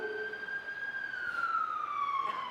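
A passing emergency vehicle's siren wails in Kauai, one continuous tone gliding slowly downward, moderately distant and steady over faint background hiss with no voices.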